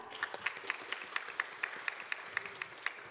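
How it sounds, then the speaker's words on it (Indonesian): Applause at the Indonesia Stock Exchange listing ceremony for PT Fantany International Tbk: faint, evenly paced claps repeat in a regular rhythm over a quiet room background. "Mari beri tepuk tangan yang meriah"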